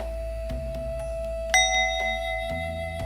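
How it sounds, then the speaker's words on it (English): A deep bell tone hums steadily with bright ringing overtones, one louder strike sounding midway and sustaining as it slowly decays. "the temple bell sounded, deep, slow, like the world breathing again"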